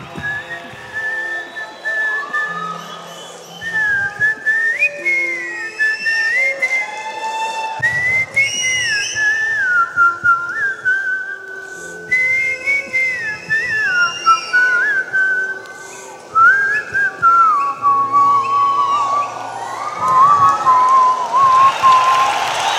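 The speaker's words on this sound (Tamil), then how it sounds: "விசில் அடிக்கிறதா இருந்தால் இப்படி அடிக்கணும்." At a live concert in Singapore, a person whistles a song melody clearly into a microphone, phrase after phrase with short pauses and faint backing tones beneath.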